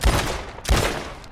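Gunfire from Red Dead Redemption 2, two loud, close booming shots about half a second apart with decaying tails, followed by the sharp onset of a third blast at the very end, no talking.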